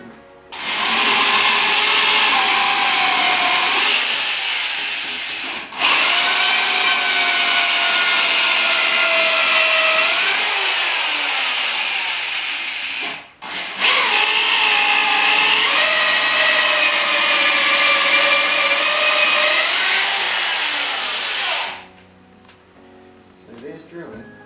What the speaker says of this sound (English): I just tap into that core that I'm drilling out with the hole saw